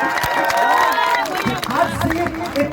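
Applause and cheering from the audience at a wedding farewell gathering for eleven sisters. A dense, steady wash of clapping and crowd noise with raised voices mixed in throughout.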